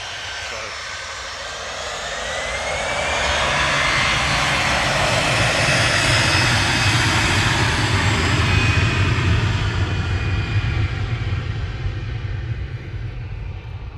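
An EasyJet A320 airliner's jet engines roar at Manchester Airport, the sound rising from a distant whine into a loud, broad, sustained rumble that slowly fades.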